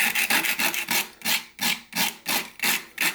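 120 grit sandpaper rubbed back and forth along the edge of a whittling knife, about a dozen rhythmic rasping strokes, close and fairly loud, with no voice.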